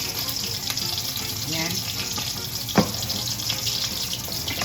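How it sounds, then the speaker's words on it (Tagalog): Water is poured from a tap into a pan of fish being cooked for lunch, a steady splashing flow under faint room noise, with one brief knock partway through and a short spoken word. "guys, lagyan natin ng kaunting tubig."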